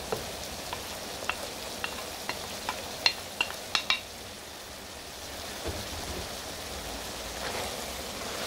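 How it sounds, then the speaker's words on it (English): Ground beef stew for picadillo cooks quietly in a pan while being stirred: a row of light clicks and scrapes early on, then a soft steady hiss of cooking. "Just stir that all around together. It smells so good. I love the smell of ground beef cooking."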